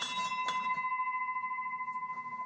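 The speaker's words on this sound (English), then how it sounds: "commenced by ringing the bell" A bell rings with a sustained, clear tone that slowly fades, struck again faintly a couple of times, fairly quiet.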